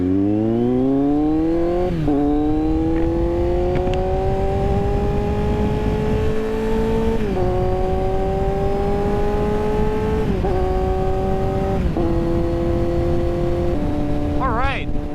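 A Kawasaki Z900 motorcycle revs loudly and continuously, its engine pitch climbing and stepping between gears as the bike pulls away close to the microphone.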